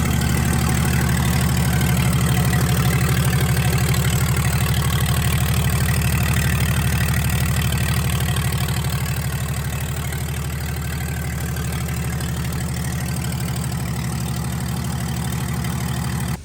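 A repaired truck engine idles steadily and loudly without coolant, its deep continuous drone running unbroken throughout with no one speaking.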